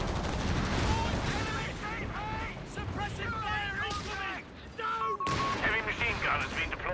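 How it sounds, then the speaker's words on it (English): Grenade launchers firing on a squad holed up in a building in Company of Heroes 3: repeated bursts of gunfire and explosive thumps over about seven seconds, with someone talking over the battle throughout. "Grenade launchers lighting up the squad inside the building though."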